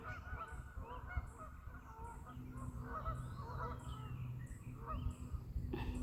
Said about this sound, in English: the geese are having a conversation in the background